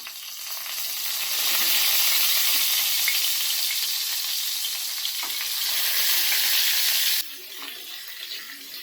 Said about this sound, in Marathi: तेल टाकलेलं आहे आणि आता आपण ही सगळी वांगी आहे ना टाकून घेऊया